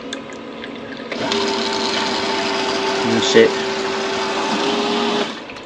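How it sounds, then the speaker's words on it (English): An electric boiler condensate pump switches on and runs with a steady, close mechanical hum and whir for several seconds, over a faint watery gurgle, with a brief knock near the end and a short spoken remark. "It's a very efficient pump."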